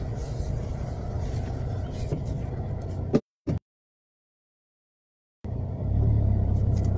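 Cars pass along a narrow road, a low steady rumble of engines nearby that cuts out briefly and then returns louder as a vehicle comes close.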